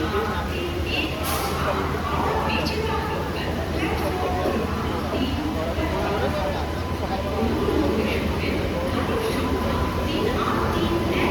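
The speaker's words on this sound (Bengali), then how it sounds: "ট্রেন ঢুকছে" The Shalimar–Okha Superfast Express pulls into the station on its first day with new LHB coaches. Its rumble runs steadily under station crowd chatter, with people talking nearby throughout.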